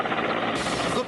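A helicopter drones steadily with a dense, churning rotor rumble that stays loud and close for the short stretch, with no voices over it.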